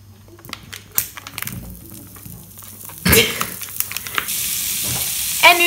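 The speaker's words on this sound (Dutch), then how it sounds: "De spekjes staan nu op het vuur" Bacon bits frying in a pan for a quiche: quiet crackles and clicks at first, then a loud burst of sizzling as they hit the hot fat, continuing as a steady fry with occasional scraping.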